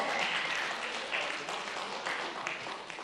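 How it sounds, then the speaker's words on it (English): A church congregation applauds a guest speaker, a dense, steady wash of clapping that tapers a little toward the end. "Give her a big round of applause."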